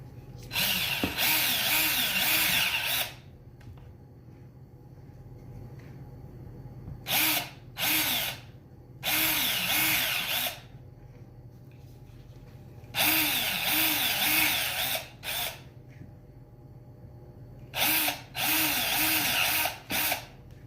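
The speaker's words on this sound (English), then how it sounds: "I'm going to continue drilling" Several bursts of a power drill whirring as it drills into a pumpkin, each lasting one to three seconds with short pauses between, loud and close with no talking.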